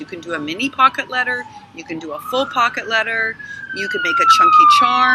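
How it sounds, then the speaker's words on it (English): An emergency vehicle siren wails outside while passing, its rising and falling tone growing louder and holding steady toward the end, under a woman's continuous speech. "Oh, sorry about the siren."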